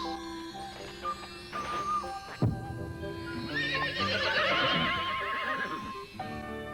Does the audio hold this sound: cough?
no